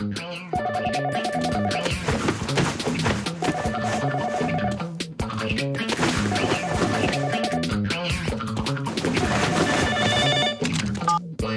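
A cordless home telephone rings in a repeating electronic pattern, bursts of about two seconds separated by short gaps, loud and close, with music-like tones and no speech over it.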